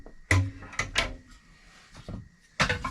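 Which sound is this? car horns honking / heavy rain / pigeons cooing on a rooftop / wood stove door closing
wood stove door closing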